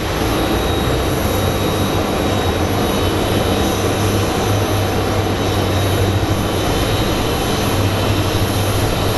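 A WestJet airliner pushing back at Phoenix Sky Harbor airport, its engines giving a constant loud whine and hum with a low droning tone throughout.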